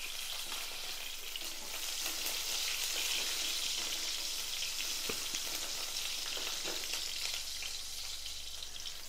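Finely chopped shallots and curry leaves fry in hot oil for a Tamil lentil-ball kuzhambu, giving a steady, close, bright sizzle that carries on without break and with no talking.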